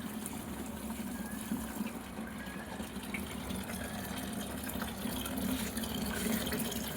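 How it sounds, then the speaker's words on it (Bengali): Water is sprinkled by hand, a little at a time, onto plants in a rooftop garden. It makes a faint, steady wash of splashing and trickling with a low hum under it. "গাছে জল দিচ্ছে? হাতে করে অল্প অল্প করে ছিটিয়ে ছিটিয়ে"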